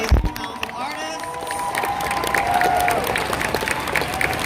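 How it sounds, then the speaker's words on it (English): Audience applause and cheering for Hamilton musical performers at the New York Stock Exchange before the closing bell, a steady wash of clapping from a sizable crowd with a voice briefly audible near the start. "One more round of applause for these amazing, talented artists."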